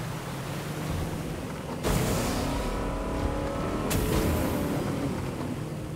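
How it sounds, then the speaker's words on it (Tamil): A vehicle in the Fortnite video game drives with a steady engine roar that surges at two points. A dense, noisy game soundscape fills the background, and no one talks. "ஏ வண்டி ஓட்டுறதா, வண்டி ஓட சத்தம் கேட்குது."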